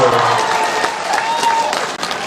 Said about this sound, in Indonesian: Tepuk tangan dulu, lihat tepuk tangan dulu.